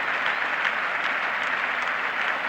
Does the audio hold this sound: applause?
yes